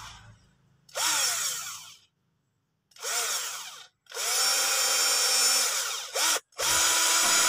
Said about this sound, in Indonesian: Kita bor aja di sini